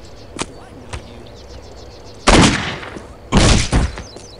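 Two loud bursts of gunfire in the video game Postal 2, each a dense broadband volley lasting about a second, preceded by a couple of sharper isolated cracks.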